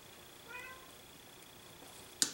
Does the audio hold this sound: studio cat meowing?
yes